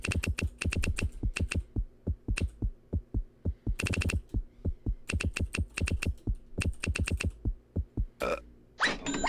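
Answer being typed on a computer keyboard during a You Don't Know Jack trivia game: rapid, close, crisp key clicks in several bursts with short pauses, ending in a brief game sound effect.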